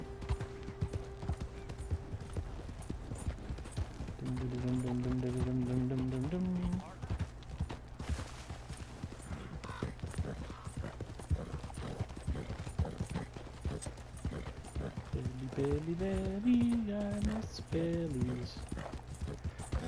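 Horse hooves clip-clop steadily through a stretch of Red Dead Redemption 2 gameplay on PS4, running under a voice and game music, with a brief whinny-like tone near the end.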